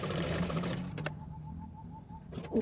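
A sewing machine runs a short seam on a double Katori blouse, a close whirring stitch for about a second before stopping, followed by faint handling noises.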